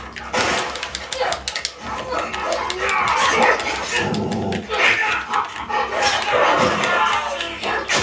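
A dog barks and snarls during a fight in The Last of Us Part II, with loud, repeated, aggressive barks over game combat noise and people talking.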